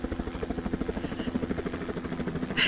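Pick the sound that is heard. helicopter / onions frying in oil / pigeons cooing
helicopter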